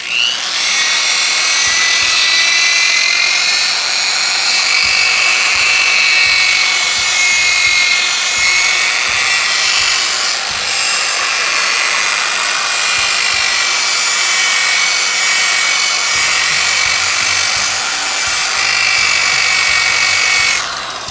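A power sander running with 120 grit sandpaper gives a loud, continuous high whine and grinding hum close by, steady for the whole stretch with slight pressure changes.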